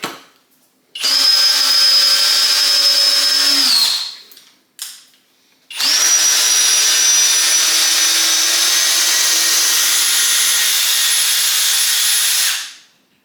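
A Ridgid compact cordless drill drives a 5/16 by 8 inch GRK screw at speed 1: a loud, close whine runs about three seconds, stops briefly, then resumes for about seven seconds before winding down.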